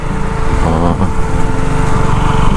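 Warm motorcycle engine idling and running near Bukit Solo, Tano Maero, Betong, a steady close mechanical drone with a short rise in revs partway through.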